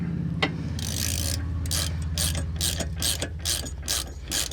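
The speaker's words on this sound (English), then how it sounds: "Now I gotta strap the prop back up. And let's tighten this sucker up." A hand ratchet tightens the new nut on a boat propeller, starting with a low mechanical hum, then giving a series of sharp, close clicking bursts in an uneven rhythm.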